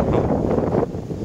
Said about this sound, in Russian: Сегодня очень сильный ветер